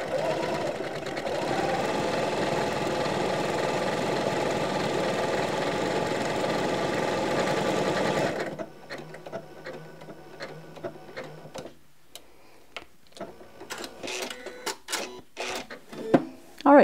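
Sewing machine running steadily for about eight seconds while stitching a tea towel, a loud continuous mechanical whir, then stopping and giving way to quieter handling clicks and rustles.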